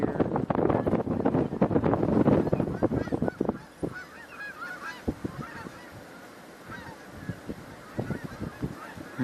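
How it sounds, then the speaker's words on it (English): Canada geese honk in a dense, loud burst that thins into scattered, more distant calls over wind noise outdoors. "Some Canada geese may be coming in, or maybe they're all leaving."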